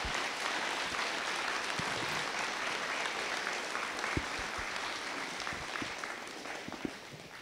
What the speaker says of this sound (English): let's give the staff here and the teachers a big round of applause